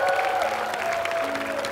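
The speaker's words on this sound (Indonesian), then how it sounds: "tepuk tangan buat Sela" An audience applauds in a television dating show studio, a brief, fairly soft patter of clapping with some crowd murmur.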